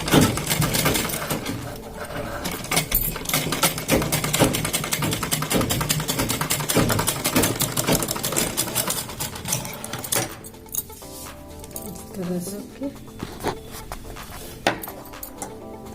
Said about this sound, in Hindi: फिर इसके ऊपर हम एक ऐसे सिलाई लगा लेंगे।